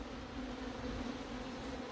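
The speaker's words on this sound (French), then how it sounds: "Là, on voit beaucoup d'abeilles là qui virevoltent." Bees swarm around an apiary hive in Yerres, passing through a net, giving a steady, dense buzzing drone that holds evenly throughout with no voices.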